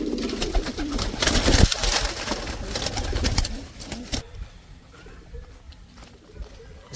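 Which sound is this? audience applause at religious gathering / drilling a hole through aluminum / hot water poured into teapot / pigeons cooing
pigeons cooing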